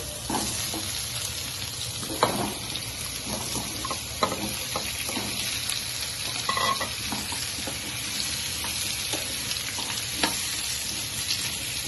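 Pumpkin pieces fry in a pan, a continuous close sizzle with repeated scraping and stirring knocks from a spoon, alone with no talk.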